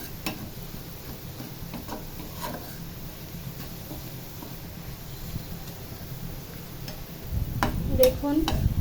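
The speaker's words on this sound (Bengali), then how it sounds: "অনেকটাই ভাজা ভাজা হয়ে গিয়েছে।" Garlic and onion fry in oil with a pinch of turmeric for a pumpkin-greens dish. A low, steady sizzle is broken by scattered ticks and spatula scrapes, and the stirring grows louder near the end.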